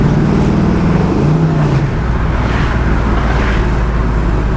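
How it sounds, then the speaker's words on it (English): A 1964 Pontiac GTO's V8 engine with dual exhaust rumbles steadily with a deep, throaty drone, rising briefly in pitch before settling into a constant low idle, close and loud. "And it sounds really good. It's got nice dual exhaust."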